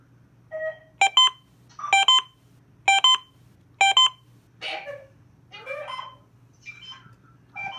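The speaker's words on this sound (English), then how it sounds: "thankfully I already know how to do the siren test" Uniden Bearcat WX100 weather radio running its siren test: four loud, evenly spaced bursts of sharp harmonic alarm beeps, then several rougher, noisier tone bursts, over a low steady hum.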